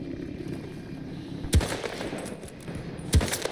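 Anti-aircraft gunfire in a video game rings out in two loud, sharp bursts of rapid shots about a second and a half apart, standing out above a quieter rumble of battle.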